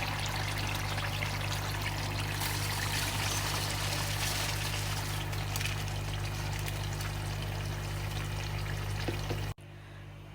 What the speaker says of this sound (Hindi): राइस शामिल करके अब हमने इसमें तकरीबन 4 ग्लास पानी ऐड किया है।